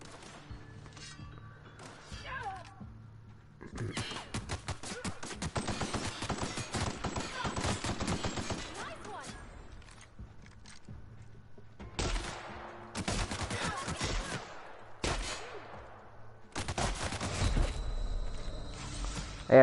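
Gunfire in the game The Outer Worlds comes in several loud rapid bursts separated by quieter gaps with footsteps and lighter clatter, the firing returning in clusters across the clip.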